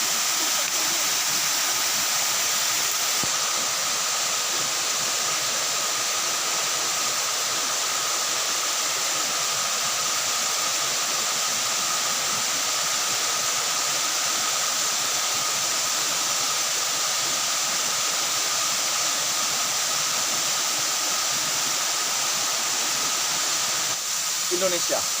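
Pangka Dari waterfall in Indonesia, a continuous loud rushing roar of falling water, steady and broadband for the whole stretch with no voices.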